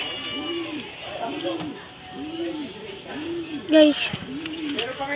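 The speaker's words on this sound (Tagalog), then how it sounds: "Ito po yung kalapati natin, dalawa." Pigeons coo nearby in a repeating rhythm of soft, throaty calls, about five in a row, with a person talking over them.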